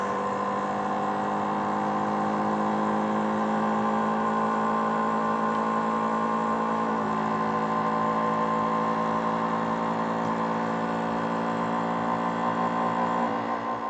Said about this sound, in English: Taking it down to a really heavy vacuum.